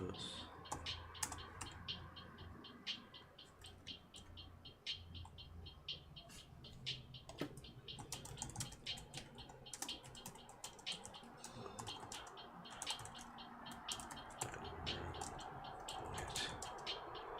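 Keys clatter on a computer keyboard during photo editing software work, quick irregular clicks close to the microphone with some mouse-like ticks, fairly faint, with a person talking over them at times.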